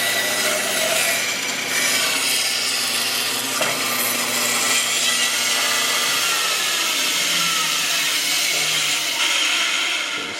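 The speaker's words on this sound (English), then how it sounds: "I cut a perfect circle with my bandsaw." A bandsaw cuts a circular turning blank from wood, giving a loud, continuous close-up rasping whine that holds steady for the whole stretch.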